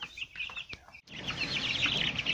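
Three-week-old broiler chicks under a heat lamp indoors cheep and cluck continuously and fairly close, with a brief pause midway. There is no talking.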